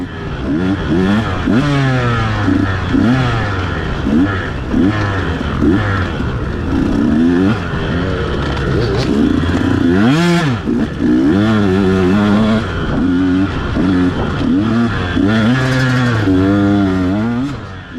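Dirt bike motorcycles racing in a hare scramble over off-camber hilly ground, engines loud and close, revving up and down in repeated surges with overlapping bikes throughout.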